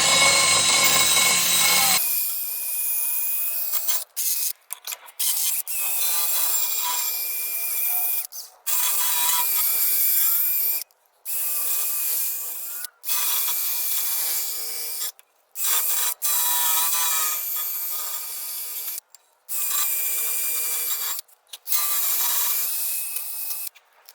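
A cordless drill spins a small abrasive wheel cleaning a Mercedes GLK rear brake rotor in repeated bursts, a rough grinding whir that stops and starts with brief silences between passes.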